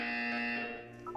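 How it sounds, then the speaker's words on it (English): A steady electronic buzzer tone in the video game Portal 2 drones continuously, loud and unbroken, with a brief higher chirp near the end. "You will hear a buzzer."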